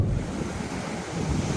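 Ocean waves wash steadily onto the sand at Englewood Beach, a public beach, with continuous surf and wind buffeting the microphone throughout and no voices.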